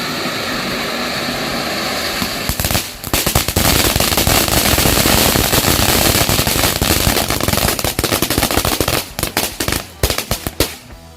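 A jumbo fountain firework (air mancur) goes off after a short lead-in, giving a loud, sustained, dense crackling and hissing spray for about eight seconds before sputtering out in scattered pops.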